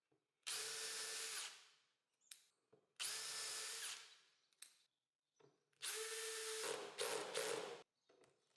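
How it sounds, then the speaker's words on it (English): A power drill bores bolt holes into a wooden sliding carriage for a table saw workstation, three loud sustained whining bursts separated by brief pauses and small handling clicks. "I'll drill them now, but it's better to do this before installing the slider."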